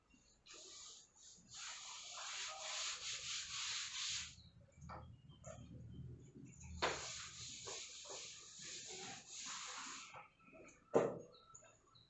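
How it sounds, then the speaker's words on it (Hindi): A board eraser rubs chalk or marker writing off a classroom board in two long scrubbing passes, soft and fairly close, ending with a single knock; no speech. "मैं रब कर देती हूँ।"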